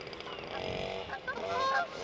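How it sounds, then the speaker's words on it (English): Geese flying in over a stillwater trout fishery, honking in a few quick nasal calls, fairly faint and somewhat distant over quiet outdoor background. "Nice little geese come in, ruin a bit of filming with the noise."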